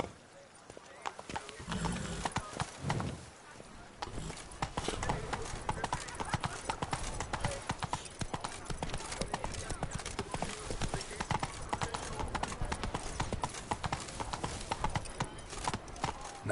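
Roach, the horse in the video game The Witcher 3, gallops with steady, continuous clip-clop hoofbeats, a whinny near the start, over game music and ambience.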